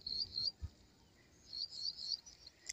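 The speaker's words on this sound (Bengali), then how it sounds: "ঝিঝি ডাকছে।" Crickets chirp faintly in a village field of barley, with two short, high trilling bursts separated by a quieter pause, set against a calm outdoor background.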